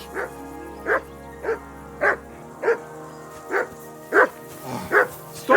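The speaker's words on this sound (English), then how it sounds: "that barking's driving me nuts. Can you get your dog to shut its beak?" A dog barks repeatedly in the video game Kingdom Come: Deliverance II, about nine sharp, evenly spaced barks close by, with a low hum dropping away early on.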